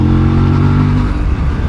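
A 2025 Aprilia RS457 engine revs up loudly and close, with a strong harmonic tone that builds and then breaks into a rougher, choppy note as the revs fall away, in a short burst.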